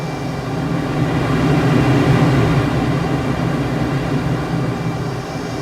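An F-18 jet in Microsoft Flight Simulator 2024 flies fast at around 600 knots, giving a steady, loud, broadband engine roar that swells slightly mid-way and holds with no talking.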